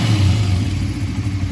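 Small 1988 Honda dirt bike engine, a Z50 or XR80R, running steadily after a kick start, with a continuous low buzzing idle that carries loud and close.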